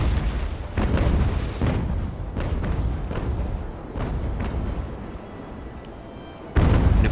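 Naval cannon fire in the age-of-sail battle game Ultimate Admiral: Age of Sail, a series of deep booming broadside shots rolling one after another with rumbling decay, ending in a loud final blast.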